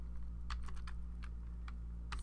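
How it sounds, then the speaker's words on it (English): A colour code is typed on a computer keyboard, giving about eight quick, light key clicks in a short, uneven burst over a steady low hum, with no speech. "I'll just type this in"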